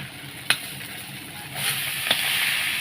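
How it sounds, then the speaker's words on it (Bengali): Prawns and bottle gourd frying together in a pan, a steady close sizzle with a couple of sharp clinks or stirring knocks and the frying swelling slightly louder toward the end. "মাছটা ভাজা ভাজা হয়ে গেছে এখন আমি লাউগুলো সব দিয়ে দেবো"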